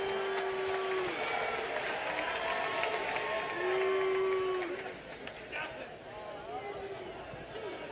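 Arena crowd at a boxing event noisily cheering and applauding for a young Brooklyn fighter: a sustained, dense roar of clapping and shouting that swells and then settles, with a steady tone running underneath.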